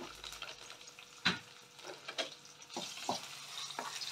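Curry spices sizzle in a pan over low heat for Indian chicken curry while a spoon stirs them, with a soft continuous frying hiss broken by a few scraping strokes and no voices.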